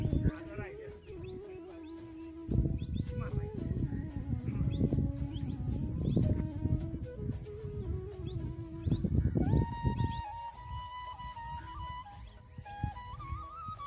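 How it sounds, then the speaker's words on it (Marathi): Birds sing outdoors on a farm in the evening, with thin whistled calls and chirps over a steady low rumble of background noise; a clearer, rising whistle stands out near the end. "पक्ष्यांचा वगैरे आवाज कसा ऐकू येतोय."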